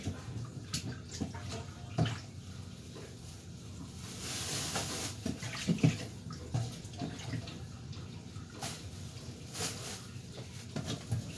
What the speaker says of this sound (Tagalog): binubuhos ko dito lahat sa lababo yung aking, ano bang tawag nun? Yung mga tira-tirang pagkain